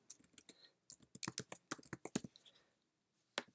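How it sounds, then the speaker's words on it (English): Login details are typed on a computer keyboard in a library, a quick run of crisp key clicks in bursts with short pauses, close and fairly quiet, ending in a single isolated keystroke. "So I'm going to just type it in here."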